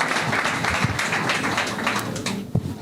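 A church congregation applauds to welcome a pastor, with dense, steady clapping from many hands filling the room and a few sharper claps standing out.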